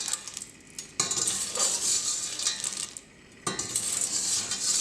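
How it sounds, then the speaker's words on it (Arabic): Carob is stirred into sugar caramelizing in a pan, giving steady scraping and sizzling with brief clinks of a utensil, broken by two short pauses, close up and with no talking. "ننزل بالخروب نقلب"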